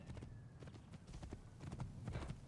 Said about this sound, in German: Nehmen wir das Pferd einfach mit.